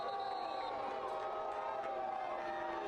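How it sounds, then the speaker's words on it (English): Spectators at a professional soccer match between Greenville Triumph SC and Lexington SC shout and jeer after a hard foul, a distant, continuous crowd roar with scattered whoops and a commentator talking over it. "You can hear the reaction of the crowd."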